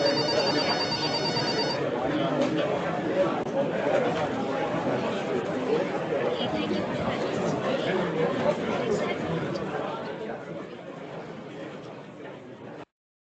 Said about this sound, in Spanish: Irritante desde el primer teléfono que sonó.